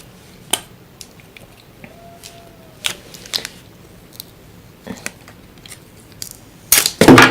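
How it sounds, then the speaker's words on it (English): Fitbit Charge 3 activity tracker packaging being unwrapped, with scattered soft crinkles, snips and clicks over quiet room tone, ending in a burst of loud rustling near the mic. "So I'm just going to unwrap this."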